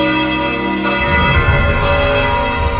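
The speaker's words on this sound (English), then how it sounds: "The bell invites me. Hear it not, Duncan, for it is a knell that summons thee to heaven or to hell." A church-style bell tolls during a stage performance of Macbeth, its loud, sustained metallic ringing filling the hall continuously without any voices.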